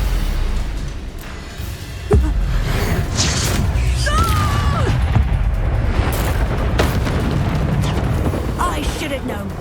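A Confringo spell blast in Hogwarts Legacy bursts amid loud, continuous combat noise, with booming impacts and crackling pops layered throughout.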